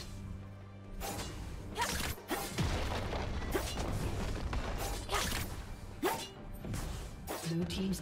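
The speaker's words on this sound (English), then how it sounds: "Blue team's turret has been destroyed." Turret being destroyed in a League of Legends match: a series of crashing, whooshing blasts and booming hits in quick succession, fairly quiet overall, amid busy game effects.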